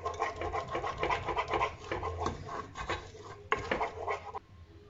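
A spoon stirring flour roux in a pan for white sauce makes continuous scraping and rubbing against the pan bottom, steady and close, with no voices.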